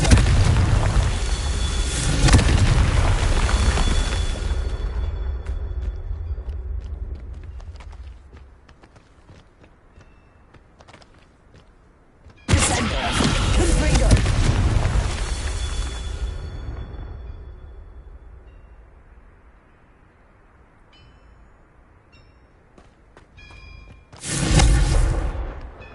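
Fiery spell explosions from the Confringo curse in the PlayStation 5 game Hogwarts Legacy, three loud booming bursts with rumbling tails, each fading into quieter game ambience.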